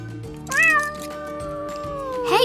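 A cat gives one clear, drawn-out meow that rises then trails off, ending in a second short cry, over a low steady background.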